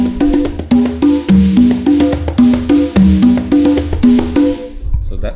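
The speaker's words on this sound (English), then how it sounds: "So that's the sound of the congas." Toca fiberglass congas are played in a lively, steady rhythmic pattern of close, loud, resonant open tones and slaps for several seconds, with no one speaking.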